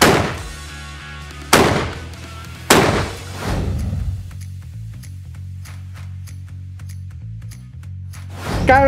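Gunshots fired at an explosive target, three loud sharp bangs near the start, each with a ringing decay, followed by quieter ticking and clicking handling sounds.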